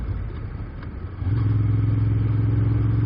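A 2016 Moto Guzzi Griso motorcycle cruises in fifth gear, its engine a steady low drone under wind rush that rises and settles into a constant hum partway through.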